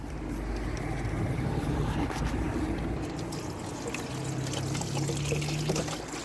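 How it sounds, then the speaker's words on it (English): Water is poured into the screen wash reservoir of a Mercedes S430, a steady gurgling pour with a bubbling, rising fill note that continues throughout, close up and without talk. "now we just need to fill it up with some water"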